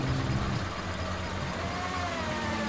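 A tractor engine in the video game GTA 5 drones steadily and loudly throughout, a continuous mid-pitched rumble with slight shifts in pitch as it drives, with no speech over it.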